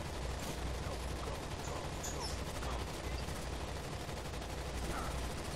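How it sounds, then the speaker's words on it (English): Steady gunfire in the shooter Rainbow Six Vegas 2, dense rattling bursts running the whole time at a constant level, with no clear voices over it. "Who's shooting at you?"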